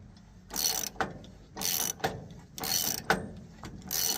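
A ratchet tightens bolts on the track wheels of a Woodland Mills HM130MAX sawmill, with about four close, even bursts of clicking separated by short pauses.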